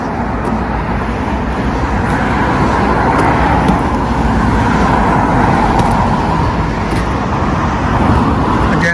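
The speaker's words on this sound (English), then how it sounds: "Again, sorry about the traffic noise" Constant road traffic rumbles near a bridge over a Norfolk river, a loud steady roar of passing cars and heavier vehicles with no pauses, close and unbroken throughout.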